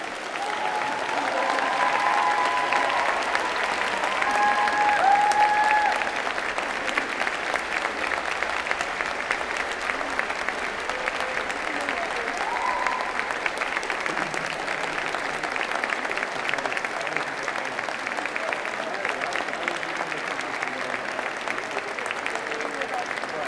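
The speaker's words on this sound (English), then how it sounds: "give them a big round of applause and thank you" Graduating veterinary and veterinary nursing students at a ceremony applaud their families in a large hall, a sustained, even wall of clapping that carries on for over twenty seconds with faint voices mixed in.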